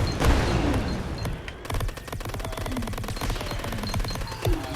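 A mech's gun in the horde-survival bug shooter Greedland fires a rapid, evenly spaced stream of shots, loud and sustained, with a few heavier booms mixed in.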